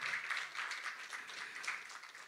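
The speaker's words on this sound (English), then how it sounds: "Round of applause." Audience applause at a South African book launch, broad and steady clapping from a crowd, moderately faint and continuous throughout.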